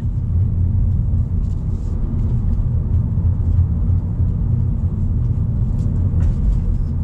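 Honda Civic driving on a road, heard from inside as a steady, loud low engine and tyre rumble with constant road noise throughout, no talking.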